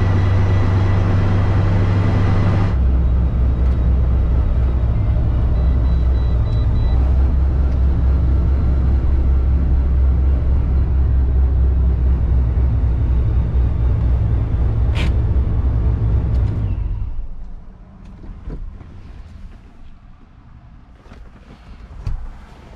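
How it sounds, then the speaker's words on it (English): A ProCharger D1SC supercharged GTO engine roars loudly and steadily at high revs, bouncing off the rev limiter before cutting off abruptly and dropping to a quiet idle rumble with light knocks. "Think we touched rev limiter for a second there"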